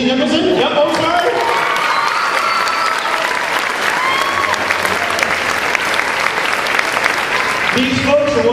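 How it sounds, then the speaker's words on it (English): Audience at a high school instrumental spring band concert gives a sustained round of applause, dense and loud clapping filling the hall throughout, with a voice briefly heard over it near the end. "So I'd like you one more time to give these folks one round of applause"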